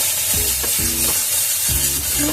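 Beetroot paste being stirred with milk in a pan for a Bengali beet bata, a soft continuous sizzle with repeated scraping strokes of the spoon every half second or so, close and steady.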